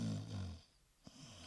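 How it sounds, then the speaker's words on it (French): A prison guard snores in a town jail: one long, deep, rasping snore up close, then a brief quiet pause and a short snort as the next breath begins, with no one talking. "Le gardien de la prison est en train de ronfler."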